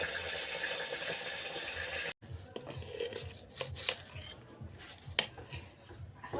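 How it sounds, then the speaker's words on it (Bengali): Onions being chopped with a knife for a curry in a home kitchen, a series of crisp, uneven knife taps on a board, close and fairly quiet, after a stretch of louder frying-like hiss. "পেঁয়াজ কাটছি, তরকারি করব।"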